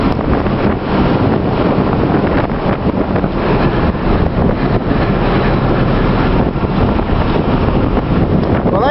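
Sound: strong wind

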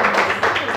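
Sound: clapping for a student

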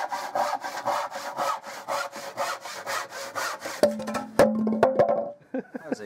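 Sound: handsaw cutting a piece of spruce wood

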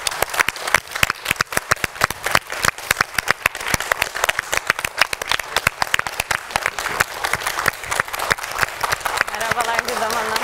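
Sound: studio audience welcome applause

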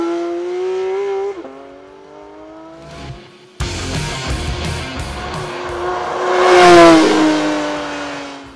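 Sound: Porsche 911 GT3 2022 engine revving toward 8700 rpm limiter

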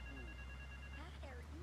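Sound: telephone ringing in the video game Grand Theft Auto 3

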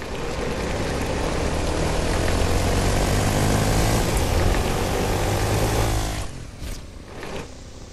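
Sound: airplane flying in video game Fortnite

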